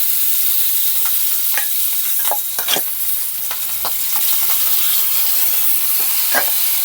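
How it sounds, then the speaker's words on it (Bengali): Fish slide into smoking-hot mustard oil and fry with a steady, close hiss, broken by scattered sharp crackles and pops throughout. "মাছগুলো আমি তেলে দিয়ে দেবো।"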